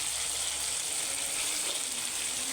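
Young hilsa fish (jatka ilish) shallow-frying lightly in a pan of hot oil, giving a steady, close hiss and sizzle with faint crackles throughout, no voices.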